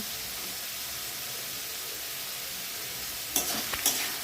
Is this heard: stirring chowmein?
yes